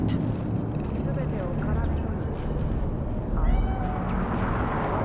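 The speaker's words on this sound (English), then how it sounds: "Do you see it? The cat." A cat meows in the video game Cyberpunk 2077 amid a busy Night City ambience with a steady traffic-like rumble; a couple of short meows stand out, and voices talk over the scene.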